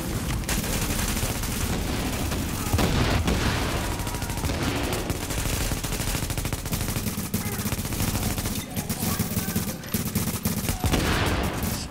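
Dense, continuous gunfire from a Red Dead game while farming Barrett's Vest at the Lexington Event Center, loud rapid shots and automatic bursts overlapping throughout with brief heavier booms, little pause.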